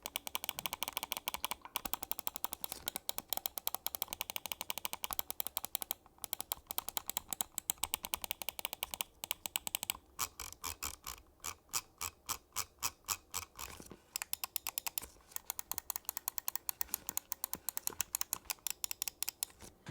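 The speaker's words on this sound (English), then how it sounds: "let's drop a sound test of the Zowie S2-DW Glossy White Edition and see what this thing sounds like." A Zowie S2-DW Glossy White Edition gaming mouse gives rapid, crisp button clicks in dense bursts with short pauses, close and dry, with no talk.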